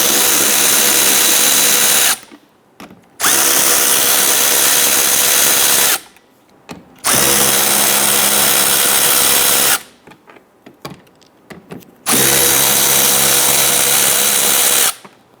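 A power tool loosens four 7/32 screws on a Ford Explorer, four loud, steady whirring runs of a couple of seconds each, separated by short quiet gaps with light clicks.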